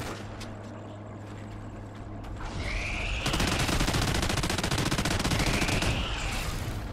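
Gunfire in Call of Duty: Ghosts Extinction. It opens with a few scattered shots over a background hum, then breaks into dense, sustained rapid automatic fire that runs loud to the end.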